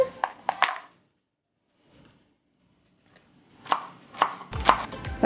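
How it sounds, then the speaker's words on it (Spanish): Knife chopping serrano chiles on a cutting board, a quick burst of sharp taps, then a pause with faint handling sounds, followed by a fresh run of close, crisp chops. "Picaremos nuestro chile serrano."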